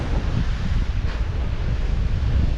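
Strong north wind roars across the microphone on a slow-moving boat in the West Philippine Sea, with a rumbling wash of large waves beneath, continuous and loud with no voices.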